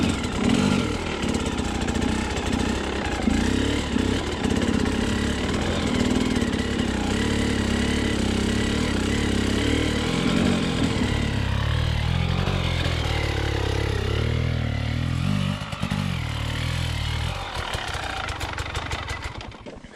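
Dirtbike engine idling and burbling steadily up close during slow enduro balance training in circles, with small throttle blips and a slight drop in pitch partway through.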